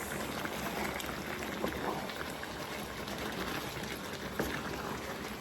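Chicken and plantain porridge boils in a pot, giving a steady, dense bubbling hiss that stays at an even level throughout with no talking.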